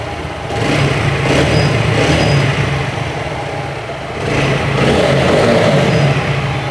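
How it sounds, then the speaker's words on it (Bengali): A TVS Apache RTR 160 4V motorcycle engine idling and revving close by, a loud continuous mechanical drone that swells twice as the throttle is blipped, with no talking. "এটা কিন্তু স্টার্ট করা হয়েছে বন্ধুরা আর আপনার সাউন্ডটা শুনতে পাচ্ছেন আশা করি"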